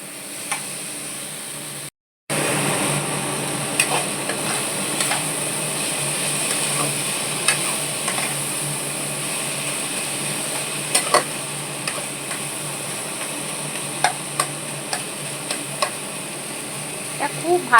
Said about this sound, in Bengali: আর এই গুঁড়ো মশলাটাও দিয়ে দেবো, জিরে, ধনে, শুকনো লঙ্কা আর হলুদ। এটা দিয়ে ভালো করে কষাতে হবে।